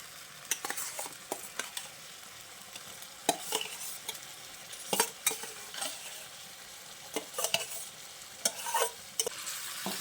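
Banana flower being stirred into a rice-paste masala frying in a pan, with repeated scraping and clattering strokes of a spatula over a soft, steady sizzle, close and moderately quiet.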